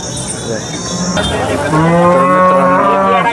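A cow moos loudly and close at a cattle market in Sangola, first a short low call, then a long sustained lowing bellow, with faint market background beneath.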